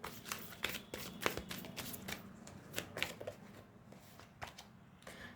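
Tarot cards being handled and drawn from a deck, giving a quiet series of soft papery shuffles and flicks with irregular rhythm, close to the listener and faint, with no speech.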